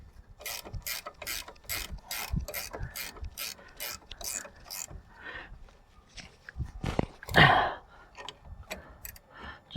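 A ratchet clicks in rapid bursts while brake caliper bolts on a Mazda MX5 NC are tightened, with metallic rattles and a louder clunk near the end, close and under no speech.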